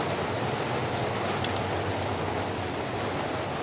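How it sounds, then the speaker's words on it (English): Heavy rain pours down steadily during a Boston police response to a motor vehicle accident, a dense, even hiss that stays loud and close throughout. "I give you guys a little image of how much rain is coming down"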